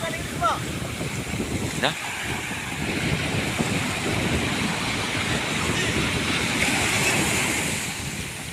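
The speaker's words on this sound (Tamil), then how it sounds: "அலை அப்படியே அமுக்குது போல இது." Ocean waves slapping and surging against a small fishing boat at sea, a steady rushing wash with wind gusts on the microphone, while people talk over it.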